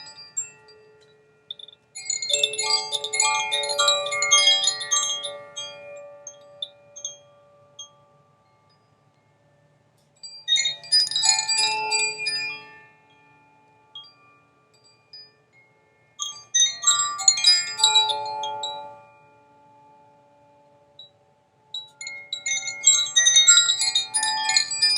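Chimes ring in four separate bursts of shimmering metallic tones, each lasting a few seconds, with quiet gaps between them and no voices.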